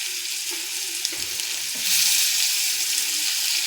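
Tomato dropped into hot oil with frying chilli, cumin and coriander powders in a pan, a close crackling sizzle that swells louder after the addition and keeps hissing steadily.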